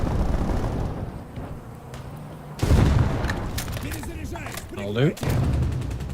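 Heavy gunfire like a .50 caliber machine gun booms in a war game on a Headquarters map, with a sharp blast and rumbling impacts mid-clip amid battle noise, while someone speaks briefly.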